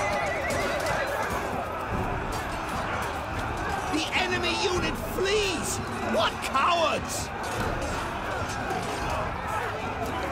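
Horses neighing and whinnying amid a cavalry battle in Total War: Three Kingdoms, several shrill whinnies rising over a dense roar of combat and crowd noise, with talking over it.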